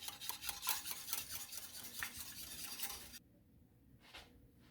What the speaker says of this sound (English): We're going to whisk this together so that when we add it back into the pot